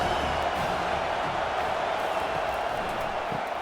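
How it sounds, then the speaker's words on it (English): A large stadium crowd at a Penn State vs. Notre Dame college football game in College Football 25 roars steadily in the distance, a continuous wash of cheering and noise with no breaks. "This crowd bringing the energy and noise early."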